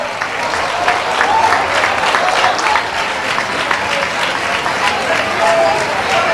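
A crowd at a town fair claps steadily and enthusiastically, a dense wash of applause lasting several seconds with some cheering mixed in.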